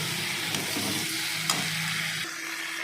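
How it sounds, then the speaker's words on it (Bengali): Steady, close sizzling of vegetables frying in oil, with a couple of soft stirring scrapes and no voices. "এবার সবজি তুলে দিলাম। সবজিটাকে আমি একটু ভালো করে ভাজবো"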